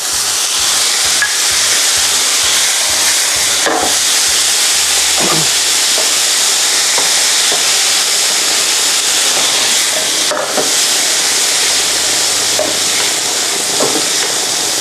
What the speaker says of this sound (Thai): หลังจากนี้เราจะผัดอีกไม่นานเท่านั้นเองครับ